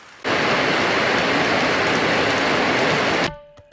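Heavy rain at a homestay in the mountains of southern Laos on the Bolaven Plateau, a loud dense roar of downpour that stays constant and then cuts off abruptly near the end.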